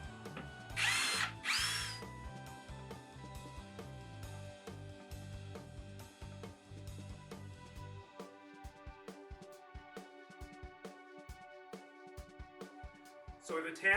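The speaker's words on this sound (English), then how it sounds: "we can go ahead and start screwing into the wall. Now this wall is plywood." Power drill driving screws through a mounting bracket into a plywood wall, with short whirring bursts early on, then a long stretch of ticking and tapping, and a final burst at the end, under a voice.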